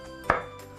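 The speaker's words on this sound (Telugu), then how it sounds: "స్మాల్ డైస్ చేసుకుంటున్నాం." A single sharp knife chop through an onion on a cutting board while dicing it small in a kitchen, one brief crisp strike against a quiet background.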